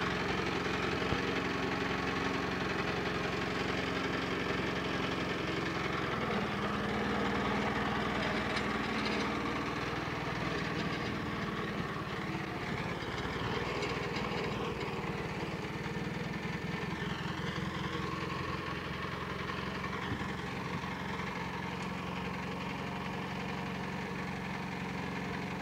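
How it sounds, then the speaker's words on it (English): A smooth-running engine idles steadily for the whole stretch, a continuous even rumble and hum at close range with no revving, pauses or voices. "My, that engine runs smooth."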